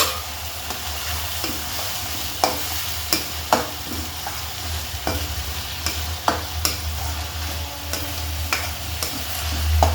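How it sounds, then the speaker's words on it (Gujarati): Onions fry in oil with turmeric for a Kathiyawadi eggplant oro, giving a steady close sizzle broken by repeated sharp scrapes and clacks of a spoon stirring the pan. "તેલ છૂટું પડે ને ત્યાં સુધી ચડવા દેવાની ડુંગળીને"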